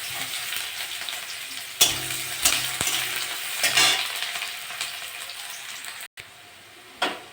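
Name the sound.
onions frying in hot oil with cumin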